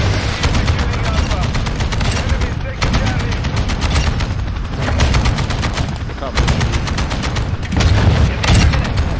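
Rapid, dense gunfire fills a close-quarters match on the Shipment map of a shooter video game, with repeated automatic bursts and overlapping shots loud and continuous throughout, with brief pauses between volleys.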